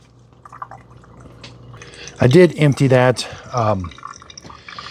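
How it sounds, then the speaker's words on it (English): A Keurig K-Duo Essentials coffee maker runs its fresh water rinse during descaling, with water trickling and dripping steadily in the background while a person speaks briefly over it. "This is the fresh water rinse on the left side."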